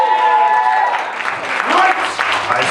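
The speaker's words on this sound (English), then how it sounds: "Give yourselves a round of applause." A live comedy-show audience applauds warmly and steadily, a dense wash of clapping at close range that swells slightly before thinning, with no voice over it.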